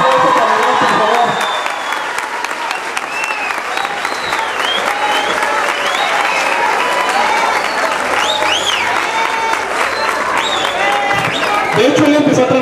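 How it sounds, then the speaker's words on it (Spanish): Audience applause for an employee marking twenty years with the company: sustained, dense clapping from a crowd with scattered cheers, and voices speaking over the applause near the start and the end. "Un aplauso para Iván, por favor."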